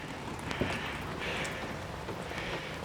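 Rain falling near a tower in Necedah, Wisconsin after a thunderstorm, a faint, steady patter of drops on surfaces with a few slightly louder splashes, heard alone without talk.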